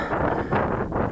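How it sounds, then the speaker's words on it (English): Steady gusting wind buffets the microphone outdoors before the maiden flight of an XK K450 drone, a continuous broadband rush with rising and falling swells and no voices. "there's a fair bit of wind"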